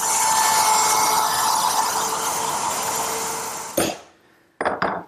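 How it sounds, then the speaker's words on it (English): Woodworking router cutting a mortise guided by a clamped jig, a loud steady high-pitched whine lasting several seconds, then spinning down and cutting off, followed by two short sharp bursts as the tool restarts briefly. "I clamp the jig with its center line aligning with the center line of the mortise, and I simply route it out."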